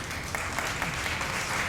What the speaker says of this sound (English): she deserves a big round of applause.